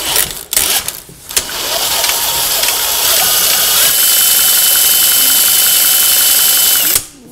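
Small leaf blower engine spun by a cordless drill to test the ignition coil: a few short drill bursts, then a steady high whirring spin for several seconds that stops abruptly.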